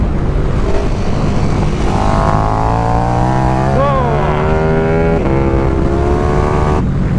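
A KTM 1390 Super Duke R motorcycle engine roars under wind rush while riding, its pitch climbing through gears with rising and falling tones, loud and constant from the rider's position.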